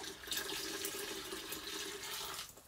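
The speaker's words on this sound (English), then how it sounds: "then we pour it back in to the mash tun, which of course settles down" Wort poured back into a mash tun during home brewing, a continuous splashing, trickling pour that is loud at first and then tapers off at the end.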